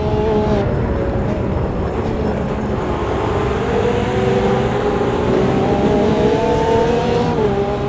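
Lamborghini Revuelto V12 hybrid supercar engine in the Automobilista 2 racing game, a steady loud drone with rising and falling pitch as it holds speed through a final lap, layered with other cars nearby.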